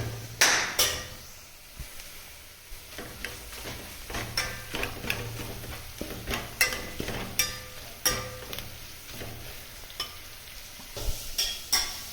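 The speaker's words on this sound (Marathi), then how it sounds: "ते व्यवस्थित असं करपून घ्यायचे आता तेलामध्ये व्यवस्थित" Spices fry in oil in a pan for chicken sukka, a steady sizzle under repeated metallic clinks and scrapes of a spatula stirring, close and fairly loud, with no talking.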